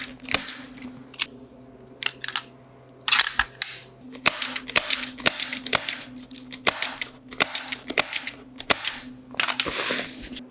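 A staple gun drives staples through fiberglass duct wrap around a round pipe, firing sharp snapping clicks in irregular bursts close by, with a steady low hum running underneath.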